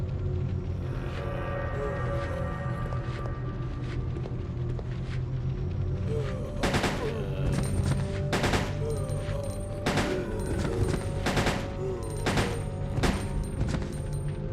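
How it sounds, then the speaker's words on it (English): Three-round bursts from an M93R pistol fitted with a stock, fired in Code Veronica X, crack out as repeated sharp volleys over a steady low game rumble, with the shots coming thick in the second half. "It's an M93R equipped with a stock. It can be adjusted to fire 3 bullets in succession."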